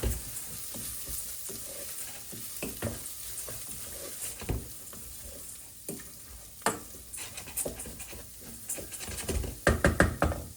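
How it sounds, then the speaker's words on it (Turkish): Rice being stirred and toasted in a pan for Turkish pilaf makes a quiet, continuous sizzle, with scraping and light knocking from a spoon that grow louder and more frequent toward the end. "Sürekli karıştırırsanız hem dibi tutmaz hem böyle her yere aynı şekilde güzelce kızarır"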